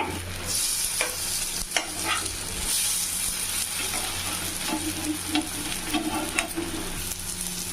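Rava dosa sizzles on a hot pan just after being flipped, a loud continuous frying hiss with occasional scraping and ticking touches, close and without speech.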